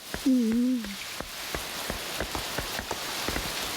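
Steady rain patters throughout with distinct drops ticking close by, while a brief voiced sound briefly rises over it near the start.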